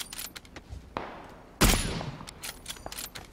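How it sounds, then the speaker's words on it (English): Gunfire in the battle royale video game PUBG, with a sharp close shot followed by a burst of rapid cracking shots at varying distances amid game noise. "Oh shit, he's shooting at you."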